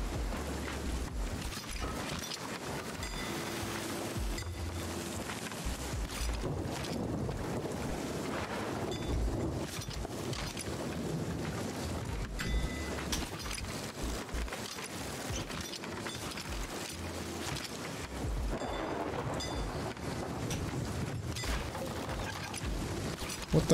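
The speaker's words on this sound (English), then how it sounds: "Yeah, it's the waves." Ocean waves in Sea of Thieves, a steady wash of sea and wind around a sailing ship, continuous and fairly soft.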